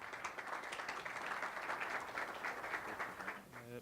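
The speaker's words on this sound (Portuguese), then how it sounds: "Com os aplausos de vocês" Audience at a regional energy forum applauding as a speaker is welcomed, a faint, even patter of many hands clapping that fades slightly at the end.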